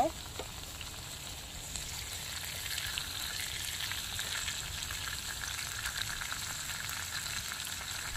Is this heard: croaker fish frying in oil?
yes